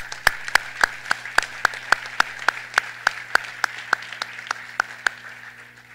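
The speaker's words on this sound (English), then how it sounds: "I'd like to have a round of applause and just thank all of you for being here" Guests at a Red Cross charity breakfast in Boston clap in a sparse, evenly paced rhythm, each clap crisp and distinct over a low steady hum, thinning out toward the end.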